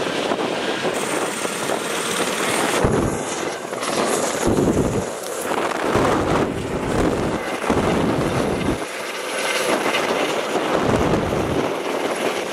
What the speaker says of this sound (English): the helicopter takes off from here and we're on this little platform here by the river